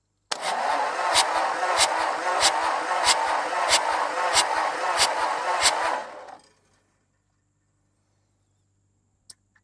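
A John Deere compact tractor engine cranks over in a steady, rhythmic chug of about ten strokes lasting some six seconds, then cuts out into near silence broken by a single faint click.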